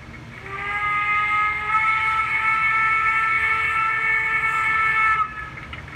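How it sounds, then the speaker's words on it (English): A long, sustained whistle from a model BR 50 German steam locomotive with a rich chord-like tone, held steadily for about five seconds before stopping abruptly. "I love the whistle sounds for these old German locos."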